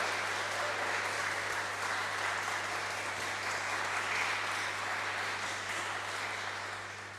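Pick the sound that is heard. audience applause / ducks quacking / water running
audience applause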